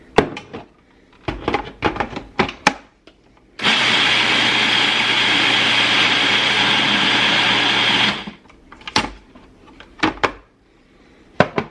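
A Magic Bullet blender grinds old-fashioned oats into flour in a single loud, steady whirring burst of about four seconds, preceded and followed by sharp clicks and clatter of handling the container.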